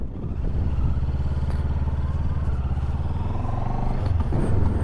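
A 2025 Mash FR750 motorcycle engine with stock exhaust idles with a steady, even exhaust burble, close and continuous throughout.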